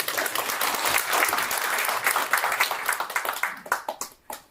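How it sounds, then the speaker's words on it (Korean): An audience at a book launch event gives dense, close applause that holds steady and then thins into scattered individual claps as it fades out. "연성희 회장 큰 박수로."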